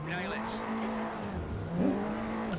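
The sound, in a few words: Audi TT tires spinning at race start, sim racing game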